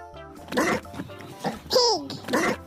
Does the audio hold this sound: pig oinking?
yes